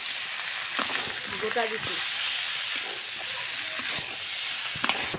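Tomatoes frying with spices in a pan, a steady close hiss and sizzle with faint stirring clatter, while someone speaks briefly over it.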